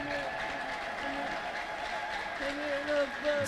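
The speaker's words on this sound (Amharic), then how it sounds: "ቆመን ለእግዚአብሔር ክብር እልልታና ጭብጨባ እናመጣለን" A church congregation claps and ululates for a healed elderly woman, with steady crowd applause and rising high ululation trills around it, partly under voices.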